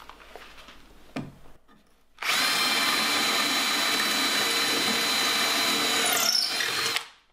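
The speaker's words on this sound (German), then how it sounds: "wir haben jetzt hier also den GSR ohne Schlagfunktion mit dem 6er Multi-Construction Bohrer und gucken wir mal, wie er sich schlägt" A Bosch GSR 12V cordless drill without hammer function bores with a 6 mm multi-construction bit, a short tap, then a loud, steady whine running about five seconds before stopping abruptly.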